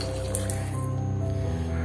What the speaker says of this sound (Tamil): ½ லிட்டர் தண்ணீர் ஆட் பண்ணிக்கிறேன்.